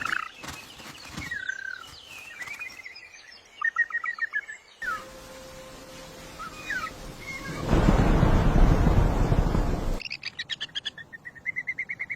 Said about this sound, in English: Chirp, chirp, chirp, chirp, chirp, chirp, chirp.